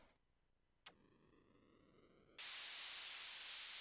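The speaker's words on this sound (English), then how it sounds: "White noise riser." A white noise riser synth effect in music production: a faint tick, then a buzzy tone, then a hiss that jumps louder and sweeps steadily upward in brightness to the end.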